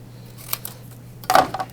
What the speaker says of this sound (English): take your scissors then and cut where that fold was at.